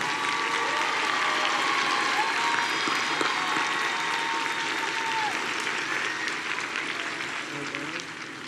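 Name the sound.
applause at high school graduation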